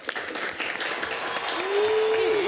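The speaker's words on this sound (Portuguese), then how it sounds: "Aplausos pro Santos." A studio audience applauds a guest on a Brazilian talk show, brisk steady clapping with some voices mixed in and a short whistle-like tone near the end.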